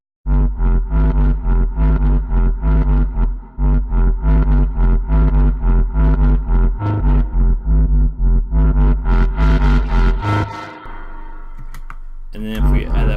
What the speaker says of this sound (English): I added a chorus, reverb, mid-side split, a little bit of distortion